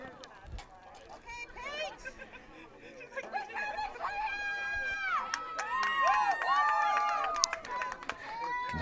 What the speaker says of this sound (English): You can hear the crowd in the background cheering her on.